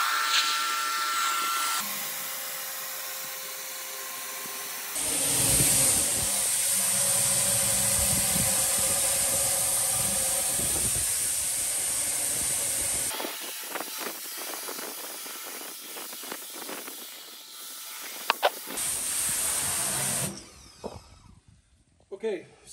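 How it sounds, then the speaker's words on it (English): A power washer blasts an offset smoker in loud, sustained hissing bursts with pauses between them, the spray changing pitch as it strikes metal surfaces, close to the microphone. "Okay, so that was one round with the power washer."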